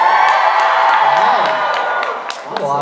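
A convention crowd at a panel cheers, whoops and shouts loudly in a hall, a sustained roar with scattered high yells.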